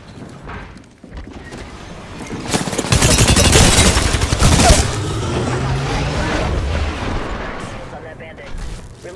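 Gunfire erupts in the video game Apex Legends, a loud, dense burst of rapid shots and booms that peaks and then rattles on under game voice lines and talk.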